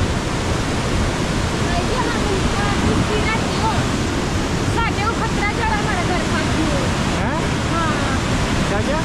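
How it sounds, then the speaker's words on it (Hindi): Fast, swollen floodwater of the Parvati river roars in a loud, steady broadband rush that never lets up, while a voice speaks faintly in the background. "पहली बार हमने देखा इतना तेज पानी"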